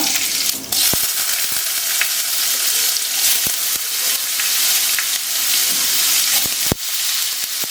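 Mustard seeds and curry leaves fry in hot oil in a small tempering pan, a loud, dense crackling sizzle with scattered sharp pops throughout, no voices.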